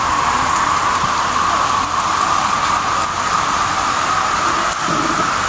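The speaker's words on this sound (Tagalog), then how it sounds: "tuloy-tuloy pa rin yung ulan" Heavy typhoon rain pours steadily over a flooded neighborhood in San Luis, Antipolo City, a dense, unbroken hiss that stays loud and even throughout.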